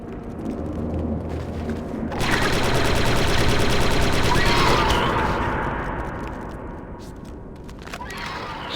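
Sniper rifle fire in the Star Wars Republic Commando video game, sharp shots sounding over a dense battle din of blasts and rumble, with a voice briefly speaking at the start.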